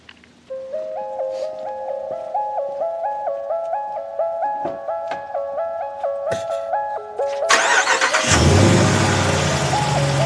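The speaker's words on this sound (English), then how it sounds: "let me go ahead and turn the truck on" A 2020 Ram 1500 Rebel eTorque pickup starts up after a run of stepped electronic chime tones, then the engine cranks and catches into a loud, broad roar and settles toward idle near the end.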